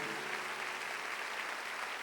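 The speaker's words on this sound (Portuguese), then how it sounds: "Se você crê, aplauda o Senhor forte" Steady applause from a church congregation, dense and continuous clapping filling the whole moment without a break.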